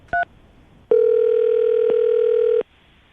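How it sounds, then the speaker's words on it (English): A telephone is being dialed. One short keypad beep is followed by a long, loud, steady tone lasting almost two seconds, then the line goes quiet, with no voices. "So I'm going to dial the phone number right now"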